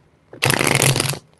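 A deck of tarot cards being shuffled by hand, one continuous riffling burst of about a second, close and fairly loud, with no talking.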